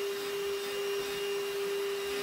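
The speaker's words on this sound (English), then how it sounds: "That's why I chose to use this vacuum." A Vacmaster VOM205P wet dry vacuum with a HEPA filter runs continuously, a steady close whine with a strong constant tone and broad airy rush throughout.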